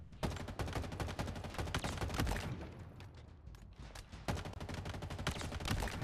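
Assault rifle gunfire in the shooter Halo Infinite, dense fast bursts of rapid shots firing in quick succession with a brief lull in the middle, loud and close.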